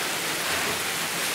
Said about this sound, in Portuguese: A chuva já tá chegando aqui no terreiro, já tá escorrendo aquela aguinha